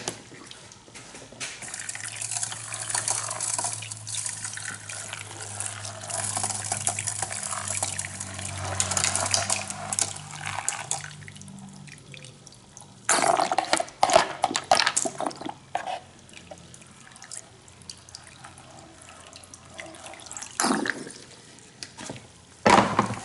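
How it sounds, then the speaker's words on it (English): Gold-bearing material is wet classified through a kitchen strainer: water pours and sloshes over gravel in uneven gushes, with louder splashing bursts in the second half and a low hum underneath; no talking. "I'm just gonna wet classify it through a kitchen strainer."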